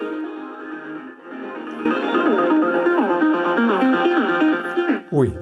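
Nordmende Super 250-9 valve radio tuned to medium wave, playing music or a broadcast with steady tonal content, getting noticeably louder partway through and holding at a fairly strong level until a brief dip at the end.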